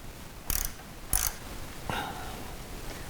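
A ratchet wrench tightens the kickstand bolt on a BMW S1000RR motorcycle, giving a few distinct, close clicking and grinding strokes spaced about half a second apart against a quiet background.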